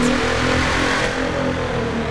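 A Volkswagen Golf 4 R32 engine in GTA 5 revs hard under continuous acceleration, a loud, steady, raspy drone filling the whole stretch with no talking.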